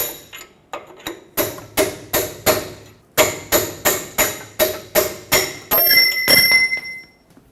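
A hammer strikes a metal punch to drive bolts out of a lower control arm on a 2009–2014 Ford F-150, giving about a dozen sharp, ringing metallic blows at a steady pace with a brief pause partway through, close and loud.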